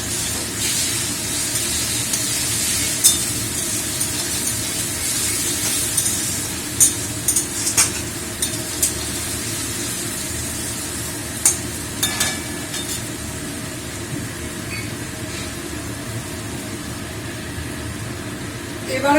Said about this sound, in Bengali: এবারে রসুন বাটা দিচ্ছি